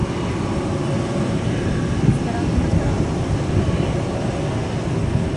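A jet airliner's engine roar at Centrair airport, a broad, steady low rumble heard from a distance with faint voices under it.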